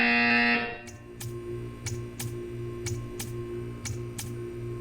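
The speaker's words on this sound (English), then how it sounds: "When you hear the buzzer, stare at the art." A harsh electronic buzzer blares in Portal 2, then cuts off, followed by a regular series of sharp ticking clicks over a low mechanical hum.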